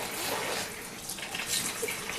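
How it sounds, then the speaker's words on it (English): Beer wort splashes and gushes into a carboy as it is poured to aerate it, a continuous, fairly loud watery rush with bubbly surges. "Now I want to splash this as much as possible because I want to aerate the wort"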